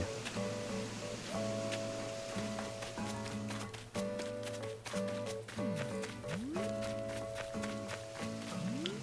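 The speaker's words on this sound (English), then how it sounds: "It looks like the rain is going to clear up" Rain falling in the video game Animal Crossing New Horizons, a steady soft patter running throughout alongside the game's gentle melodic music and occasional tonal chimes.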